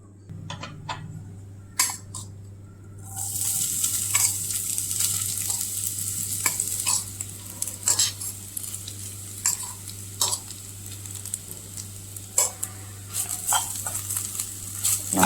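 Grated fresh coconut being stirred in ghee in a kadai for coconut laddoos, with a soft sizzle under repeated sharp scraping and clinking of a spoon against the pan, close by and without speech.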